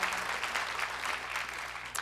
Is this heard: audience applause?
yes